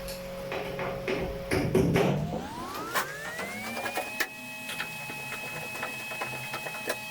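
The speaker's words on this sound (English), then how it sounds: "Locate and remove the top back cover screws." Screws being removed from the top back cover of a top-loading washing machine, heard as a few clicks and knocks followed by a powered whine that rises in pitch and then holds steady, close up, with no voices.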